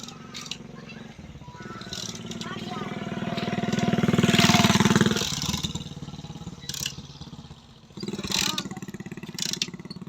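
A small engine cranks and catches, then revs up and down in uneven bursts at close range while people talk over it.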